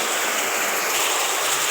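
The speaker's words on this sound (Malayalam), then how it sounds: "ഭയങ്കര മഴ." Heavy rain pours down in a dense, unbroken roar, loud and close with no break across the short stretch and no one speaking.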